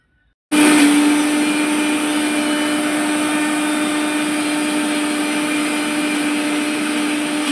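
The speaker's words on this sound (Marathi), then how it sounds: "त्याचं सुद्धा एक प्रकारे मिक्सर मधून बारीक करून घेऊ" A mixer grinder grinding soaked lentils switches on abruptly and runs with a loud, steady whirring drone that continues without pause.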